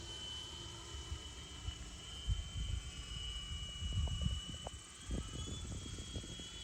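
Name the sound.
Freewing A-10 twin 80mm EDF RC jet landing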